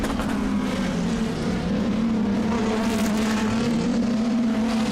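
Off-road race trucks roaring around the dirt track at the Crandon World Championship, a loud continuous engine drone with pitch shifts as they accelerate and corner, no voices.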